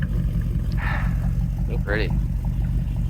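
1969 Camaro Z28 with original DZ302 engine running through side pipe exhausts, a steady low rumble throughout as people talk briefly over it.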